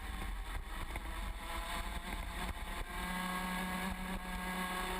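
Junior Max racing kart engine on a track, a steady droning buzz heard from onboard, continuous and moderately loud with a slight pitch rise toward the end, no talk.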